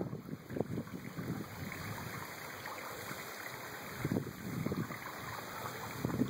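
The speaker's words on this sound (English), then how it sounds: "Hemmed In Hollow Waterfall. It's the tallest waterfall west of the Mississippi." Hemmed In Hollow Waterfall on the Buffalo River, roughly 200 feet tall, giving a steady broad rush of falling water with a few louder surges, heard with no talking.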